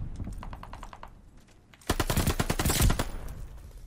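An MP40 submachine gun fires in Call of Duty Vanguard, first as a quicker, more distant burst of rapid shots, then after a brief lull as a loud, close, sustained automatic burst.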